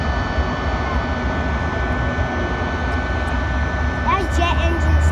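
Steady jet aircraft engine roar at an airshow, a broad continuous rumble holding at a constant level throughout, with people talking over it near the end.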